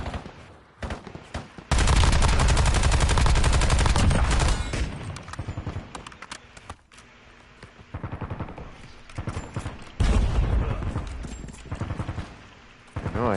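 Video game gunfire in bursts: a sustained loud automatic volley early on, then scattered shots and a second heavy burst, with quieter gaps between.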